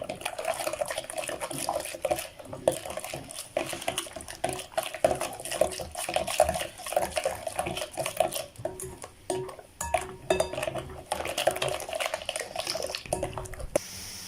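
Chocolate cake batter ingredients stirred together in a bowl, with steady scraping and frequent light clinks of a utensil against the bowl, close and continuous with no talking.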